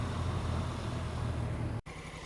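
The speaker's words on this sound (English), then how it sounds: "This is the 1000cc Honda Africa Twin, so looking forward to doing a demo ride." A steady engine rumble from a 1000cc Honda Africa Twin motorcycle carries on at a constant level, broken by a brief cutout before settling back in, with no voices.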